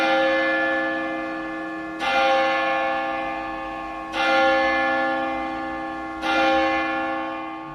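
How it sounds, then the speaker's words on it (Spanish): Church bells in an old-fashioned Christmas tale strike three resonant, evenly spaced tolls about two seconds apart, each ringing out and decaying into a sustained hum, with no voices. "Las campanas daban las 11:30."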